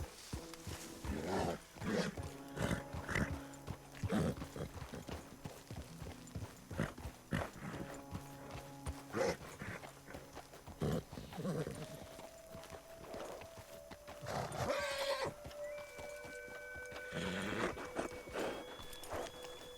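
Horse hooves clip-clopping in Red Dead Redemption 2, a steady walking gait heard under continuous Spanish talk and game ambience, with some animal-like growls mixed in.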